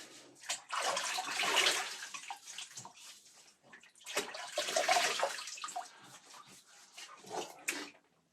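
Water splashes in two main bursts as hands scoop and slap it onto a face before a wet shave, with quieter drips and trickles between the splashes.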